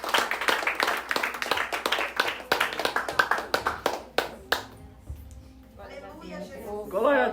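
A church congregation claps in a brisk, uneven rhythm of sharp hand claps that thins out and stops, followed by a voice speaking.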